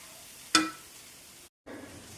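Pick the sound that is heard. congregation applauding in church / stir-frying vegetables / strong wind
stir-frying vegetables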